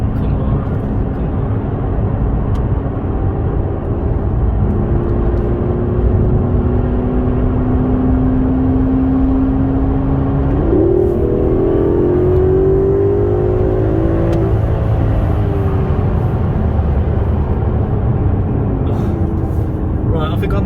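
An Aston Martin DB11 engine drones loud and steady as the car accelerates along a road, its pitch sweeping upward through gear changes, with someone talking over it.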